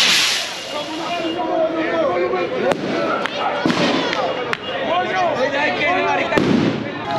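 Fireworks and firecrackers burst around a crowd of Colombian football fans in Medellín, sharp bangs and crackles going off repeatedly near and far amid shouting and chanting.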